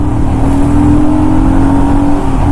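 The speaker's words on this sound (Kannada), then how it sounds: "ಇವಾಗ ನೋಡಿ ಒಂದೆರಡನೇ ಗೇರ್ ಕಿತ್ಕೊಂಡು ಹೋಗುತ್ತಾ" A motorcycle engine pulls hard while accelerating in second gear, a loud, steady droning hum with a rising whine, close to the rider and without speech.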